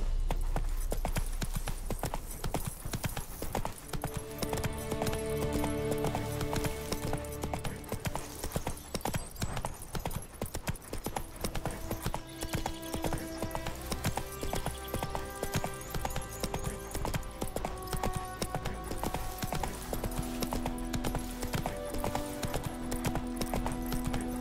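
Horse hooves clip-clop steadily at a gallop in the video game Witcher 3: Wild Hunt, a continuous rhythmic pounding under game music tones and ambient sound.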